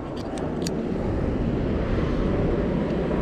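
Airplane passing close to an airport on a rainy night, a steady loud broadband engine roar that fills the whole clip without fading, with no voices over it.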